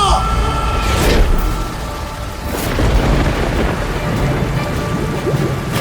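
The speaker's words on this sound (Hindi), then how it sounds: "अचानक जोर की बिजली कड़की" Heavy rain pours steadily while loud thunder cracks and booms roll through twice, close and forceful, over a constant wet hiss.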